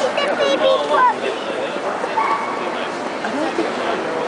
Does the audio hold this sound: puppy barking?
yes